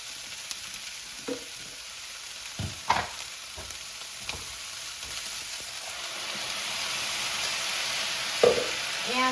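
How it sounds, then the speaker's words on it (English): Ground beef stir fry sizzles steadily in a pan as sauce goes in, with scattered scraping and stirring knocks over a continuous frying hiss that swells slightly toward the end. "And now I'm going to add the sauce."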